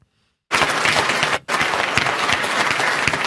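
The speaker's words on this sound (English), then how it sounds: "So people start applauding that, and then someone heckles her." After a moment of silence, a political rally audience bursts into loud, dense applause, briefly cut off before resuming with sustained clapping and crowd noise.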